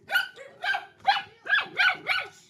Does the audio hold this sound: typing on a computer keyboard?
no